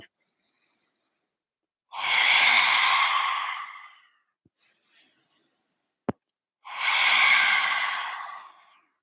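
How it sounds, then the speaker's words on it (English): Two forceful lion-breath exhalations from a yoga session, each a long, loud, breathy whoosh lasting about two seconds, separated by a quiet gap with a single sharp click between them. "3 more lion breath"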